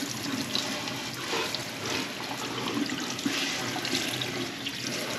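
Cured beef is rinsed under a running tap, a steady close rush of water splashing over the meat in a sink for the whole stretch.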